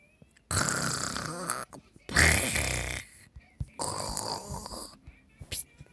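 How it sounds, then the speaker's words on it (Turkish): Three long, loud, harsh snores from a sleeping child come close together, with brief quiet gaps and small clicks between them. "Ay bu nasıl bir horlamadır?"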